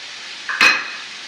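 A spoon stirring soup with sun-dried tomato and garlic in a pot gives one brief, bright metallic clink against the pot, alone over quiet background hiss.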